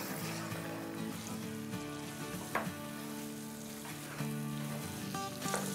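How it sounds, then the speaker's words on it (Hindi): Mutton fries with ginger garlic paste in a hot pan, giving a steady, close sizzle with a few soft stirring scrapes and small pops over a constant low hum. "अब हमको गोश्त को दो मिनट तक भूनेंगे जिंजर गार्लिक के पेस्ट के साथ"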